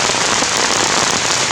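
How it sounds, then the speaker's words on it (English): Heavy rain falling in the jungle, a loud, dense and steady patter with no break and no voices. "right now it is raining too"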